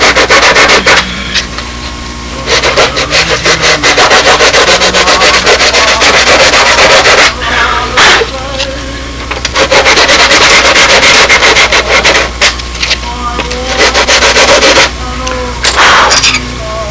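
Small carbide scraping tool working along a wooden wing panel during a 2003 sailplane wing-joining job, giving loud, continuous rubbing and scraping strokes in repeated bursts with brief pauses, close up and without talk.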